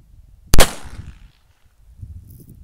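A pistol's hammer falling as the trigger is pulled on a dry fire, one sharp, loud, close metallic snap followed by a brief fading ring and near silence.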